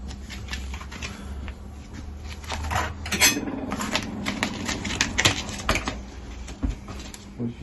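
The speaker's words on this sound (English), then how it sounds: "So we got whatever kitchen utensils you can find." Kitchen utensils handled while gathering baking gear: a busy run of clinks and clatters from cutlery, pots and dishes, close and uneven, with scattered sharp metallic knocks and no talking.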